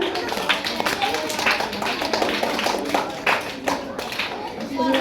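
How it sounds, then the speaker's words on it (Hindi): An audience applauds a children's play staged for Hindu New Year, with brisk, uneven clapping running throughout while people talk nearby. "आप सभी लोग ताली बजाइए जी"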